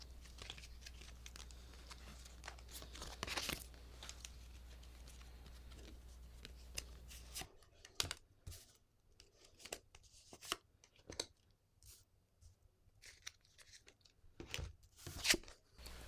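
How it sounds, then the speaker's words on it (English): A deck of tarot cards is shuffled by hand: soft, close, faint rustling and crinkling, first as a steady shuffle, then as scattered short flicks and slaps with pauses between. "I'm going to shuffle these cards."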